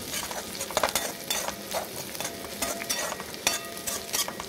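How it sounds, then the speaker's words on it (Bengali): Lentils stirred in a frying pan while being cooked alongside flattened rice. A steady hiss of frying runs throughout, with scraping stirring strokes and occasional light clinks against the pan. "কলাইটাকে একটু নেড়ে নেব"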